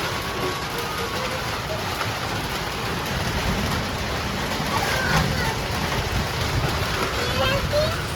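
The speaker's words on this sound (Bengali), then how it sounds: "দেখো বৃষ্টি শুরু হয়ে গেছে" Steady heavy rain pours down on surfaces outdoors, a dense continuous hiss with a low rumbling undertone, close and loud throughout.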